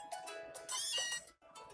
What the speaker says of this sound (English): Okay, meow to you too.